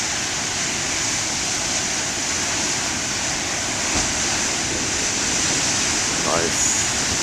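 Huge ocean waves surge in a constant, loud roaring wash of surf, broad and unbroken, swelling slightly toward the end, with a faint voice in the background.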